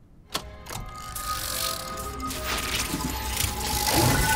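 A hand-cranked device in an animated series clicks and ratchets, a sharp knock followed by a rising, continuous grinding of ratchet and gears that grows louder toward the end.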